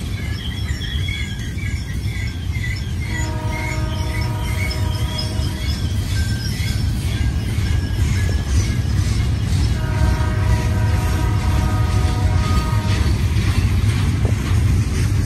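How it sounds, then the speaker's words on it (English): A heavy Union Pacific southbound manifest freight train rumbles steadily past at Cajon Pass, Southern California, with a constant low roar and clatter, sounding two long horn blasts along the way. "Got a southbound manifest train."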